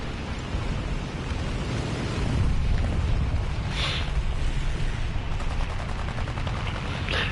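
Anti-aircraft guns firing in the War Thunder tank battle game, a dense continuous rumble of rapid distant gunfire and booms that holds steady and slightly swells midway, with no talk.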